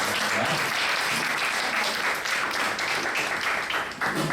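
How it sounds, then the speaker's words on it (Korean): A church congregation at a young adults' worship service gives sustained, dense applause for the worship singing groups, loud and steady throughout, with the many hands blending into a continuous wash. "축복의 박수 한번 다시 드리겠습니다"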